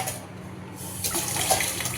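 Water poured from a tap or jug into a vessel, a close, steady splashing rush that swells over two seconds.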